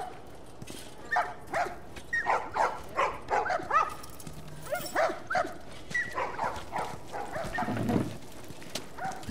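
A dog in The Last of Us Remastered barks in a run of short repeated yaps mixed with whimpers, moderately close but fairly quiet over a faint background.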